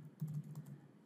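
Keystrokes on a computer keyboard, a quick run of light clicks in an irregular burst, close and quiet, with no voices.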